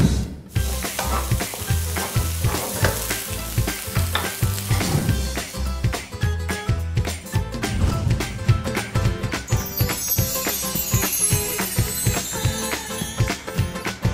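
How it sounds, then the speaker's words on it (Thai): Rice stir-fried for fried rice with shrimp in a very hot wok, a loud steady sizzle with rhythmic scraping and tossing strokes throughout, no voices. "เราตั้งกระทะปลาบนเตาจนร้อนจัดและนำข้าวที่เราตักพักไว้ใส่ลงไป"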